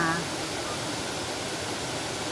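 The Namtok Chet Sao Noi waterfall in Saraburi, Thailand, a clear green-water cascade in a national park, gives a constant broadband roar, close and unbroken, with a brief voice at the very start.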